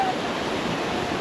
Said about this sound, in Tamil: நம்ம இப்போ தண்ணி வந்து செம்ம ஃபோர்ஸாக போயிட்டுருக்கு